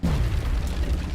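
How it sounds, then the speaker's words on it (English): A grenade blast in the turn-based strategy game Long War Rebalanced booms loud and close, a single deep burst with a rumbling tail that lasts about a second. "Grenade out."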